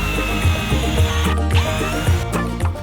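A power tool whirs steadily up close while a steering arm is tightened on a homemade vehicle build, with a ratcheting, grinding mechanical drone that pulses slightly and stays loud throughout.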